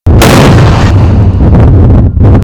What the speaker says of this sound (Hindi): और फिर न खुलने वाला दरवाजा धमाके के साथ बिखर गया।